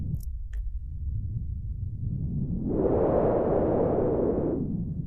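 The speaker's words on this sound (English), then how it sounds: "So if you turn this up, then the wind gets more loud." Steady synthetic wind noise, a soft hiss that swells louder midway into a broad rushing whoosh, then eases back down, with no voices.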